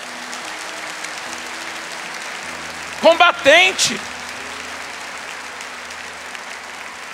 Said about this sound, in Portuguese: Aplauda esse soldado de Cristo que está aí do seu lado